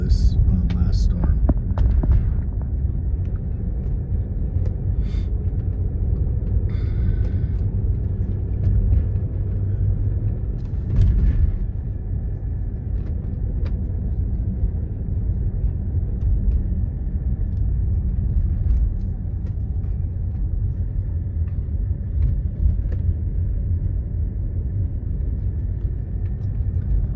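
Steady engine rumble and road hum from a car driving up toward a property gate in Monte Sereno, Santa Fe, New Mexico, continuous and fairly loud throughout with a few faint clicks and knocks, no talking.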